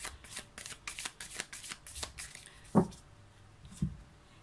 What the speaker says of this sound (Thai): เดี๋ยวอาจารย์ขอสับไพ่